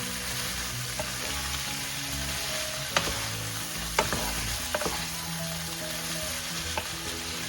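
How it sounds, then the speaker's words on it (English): String beans and ground pork sauté for sitaw adobo in a pan, giving a steady close sizzle with occasional sharp clacks of a utensil stirring and scraping. "string beans. Mix that up over there. Saute it."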